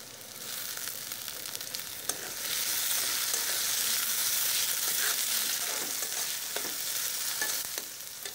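Dried kachki fish and onions frying together in a pan, a dense bright sizzle that swells partway through and stays strong, with occasional soft stirring scrapes and no voices.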